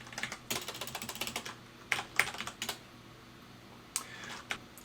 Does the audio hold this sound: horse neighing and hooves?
no